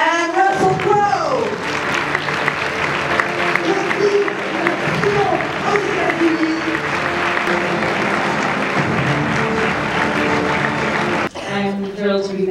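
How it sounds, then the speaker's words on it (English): A theatre audience at the Paris premiere of the film Noah breaks into loud, sustained applause with some cheering that runs for about eleven seconds and then cuts off abruptly, followed by a brief voice. "je vous demande d'accueillir sans plus attendre les applaudissements Jennifer Connelly et Russell Crowe."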